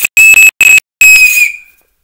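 A shrill whistle blown in three short sharp blasts, then one longer blast that trails off, loud and close.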